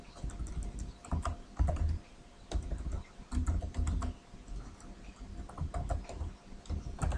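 Go code being typed on a computer keyboard: steady clusters of close, crisp key clicks in irregular bursts with brief pauses, alone without talk.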